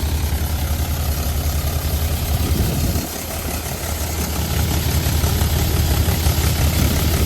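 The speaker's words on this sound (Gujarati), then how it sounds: "આ ટ્રેક્ટર હાલે." A 575-model tractor engine runs nearby with a loud, steady low rumble and chugging vibration, dipping briefly partway through before settling back to its even throb.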